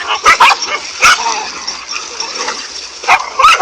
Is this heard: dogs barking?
yes